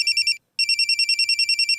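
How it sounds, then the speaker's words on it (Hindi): Mobile phone ringtone for an incoming call, a bright electronic warble in rapid repeated pulses, loud and close, with a brief gap of silence before the ringing resumes steadily. "अरे सर का फोन है।"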